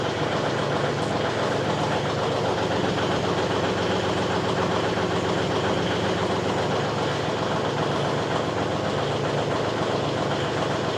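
Gas engine idling steadily before shutdown on a storm-cleanup and wood-splitting day, a constant mid-level mechanical rumble with light knocking, running alone without talk.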